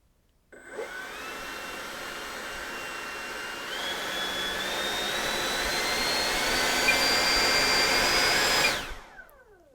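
A Freewing T-33 Shooting Star model jet's 80mm electric ducted fan spools up with a rising whine, climbs in two steps to a loud, steady high-pitched roar for several seconds, then cuts off abruptly.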